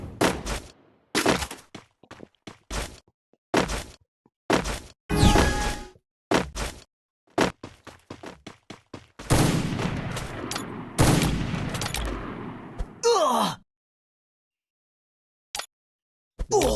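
Rapid gunfire in a mobile battle game with a sniper around, sharp shots in quick bursts and single cracks, close and loud, followed by a longer stretch of sustained firing and then silence.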